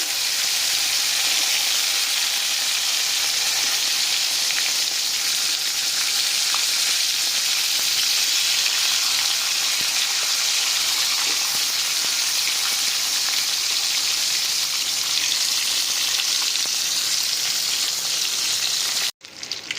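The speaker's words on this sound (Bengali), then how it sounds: "এবারে এতে আমরা সব ক্যাঁকড়াগুলোকে দিয়ে খুব ভালো করে একটু ভাজা করে নেব" Crabs fry in hot mustard oil with a loud, steady sizzle that holds evenly for nearly the whole stretch, then cuts off abruptly just before the end; no voices.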